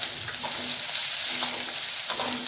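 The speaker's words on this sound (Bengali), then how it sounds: "এই 30 সেকেন্ড মতো এতে নাড়াচাড়া করে আমি ওই ঝিরিঝিরি করে কাটা পেঁয়াজটা দিয়ে দিই।" Thinly sliced onion fries in hot spiced oil, a steady close sizzle broken by scraping stirs and a couple of sharp clatters of the spoon against the pan.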